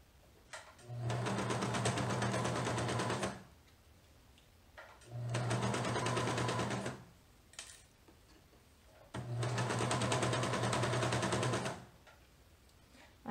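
A serger stitches a garment seam for Vogue 9057 in three steady, loud runs of about two to three seconds each, with short quiet gaps and faint fabric handling between them.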